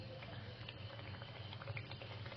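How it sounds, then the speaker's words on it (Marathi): Oil bubbles and sizzles steadily as balushahi dough fries on low heat, a dense crackling hiss with small pops throughout. "आता ही बालुशाही याच्यात सोडत आहे मी"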